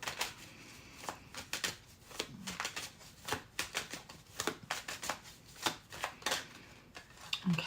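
Tarot cards shuffled and dealt onto a table, a quick run of crisp riffling snaps and soft slaps in irregular bursts, close and fairly quiet with no talking.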